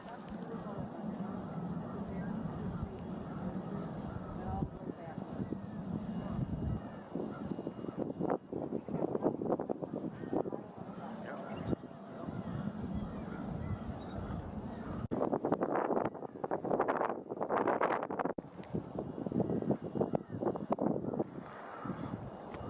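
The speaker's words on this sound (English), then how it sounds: "The noise that you hear in the background, that is ruffling past my camera. That is from the wind." Wind buffeting a camera microphone at the edge of Onondaga Lake, a steady rough rumble with stronger gusts around the middle and late stretch, under and between bits of talk.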